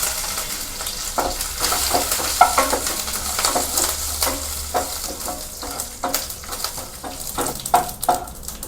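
Mustard seeds, curry leaves and a chilli tempered in hot oil for chutney, a loud continuous sizzle with sharp crackles and pops, and a spoon stirring and scraping the pan now and then.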